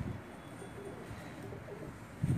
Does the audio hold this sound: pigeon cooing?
yes